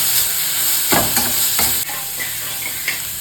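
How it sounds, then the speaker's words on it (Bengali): Ingredients fry and get stirred in a hot pan for a dhaba-style dish, a steady sizzle running throughout with scraping stir strokes cutting in every so often, close and fairly loud, with no talking. "দিয়ে একটু ভালো করে ভাজা করে নিতে হবে"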